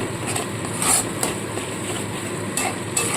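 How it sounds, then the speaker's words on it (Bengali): Masala with peanuts being stir-fried in a kadai for cabbage kofta curry: a steady close sizzle with scraping and stirring, plus a few brighter scrapes of the utensil against the pan. "চিনে বাদামটা দিয়েও সমানে কষাতে থাকবো"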